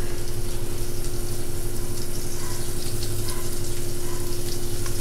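Large prawns fry in a pan over low gas, giving off a continuous dense sizzle and crackle that stays close and steady without letting up.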